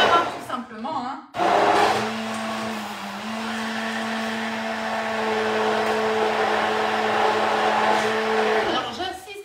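An electric blender purees peaches for sorbet with a steady, loud whirring drone that runs unbroken for several seconds after a brief start.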